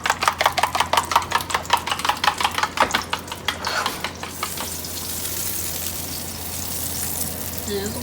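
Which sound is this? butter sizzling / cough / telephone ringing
butter sizzling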